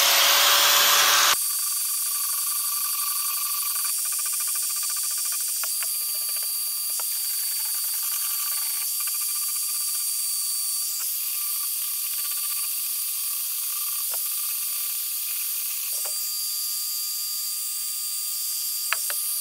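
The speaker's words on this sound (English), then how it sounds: "Now I've got a sander blade on here" High-pitched, continuous whine of a drill fitted with a sander blade, finishing a cement mold for casting a sledge hammer; it starts abruptly and holds a steady, fairly loud tone with a few small clicks.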